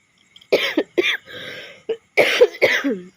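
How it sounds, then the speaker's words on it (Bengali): A woman with a bad cold coughs several times in close, harsh bursts with short gaps between them, with a rough, breathy rasp between coughs and a brief voiced sound at the end. "কাশি হয়েছে ননদের বিয়েতে এসে প্রচণ্ড ঠান্ডা লেগে গেছিলো"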